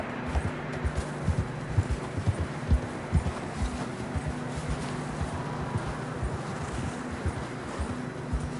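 In Red Dead Redemption 2, horse hooves clip-clop steadily at a walking pace, a continuous rhythmic clopping over a low ambient hum.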